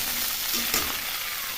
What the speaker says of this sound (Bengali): ভাজা ভাজা করে নিই জিনিসগুলো